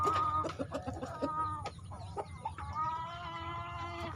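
Several young hens cluck and cackle in a flock, with busy irregular calls over a steady farmyard background, fairly close and fairly loud.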